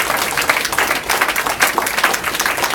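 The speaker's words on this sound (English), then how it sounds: "So let's give them a round of applause." A crowd at a congressional campaign office opening in Santa Clara applauds continuously, dense overlapping clapping that stays loud and steady throughout.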